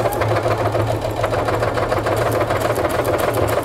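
Brother NQ1300 sewing machine stitching a quilt, a steady fast mechanical whir with rapid needle chatter and low motor hum, close and continuous with no talk.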